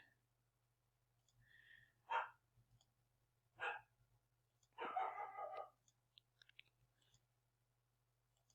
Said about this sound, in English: Oh, my dog. He's so funny.